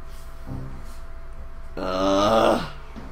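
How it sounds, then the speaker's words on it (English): Cats fighting in another room, a loud drawn-out yowl rising and wavering for about a second, preceded by a short low growl, over steady background hum. "We have cats fighting in the background."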